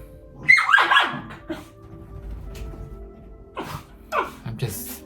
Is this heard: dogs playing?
yes